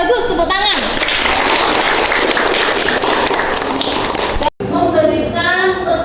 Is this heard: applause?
yes